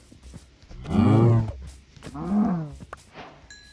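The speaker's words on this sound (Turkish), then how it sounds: "Aha inekleri bulduk." Minecraft cows let out two separate drawn-out moos, the first louder than the second, heard alone against a quiet background.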